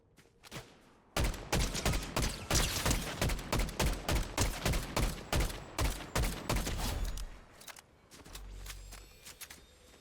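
Rapid bursts of automatic gunfire in the Fortnite video game, a dense run of loud sharp shots that starts after a brief pause and continues for several seconds before thinning out, with no voices.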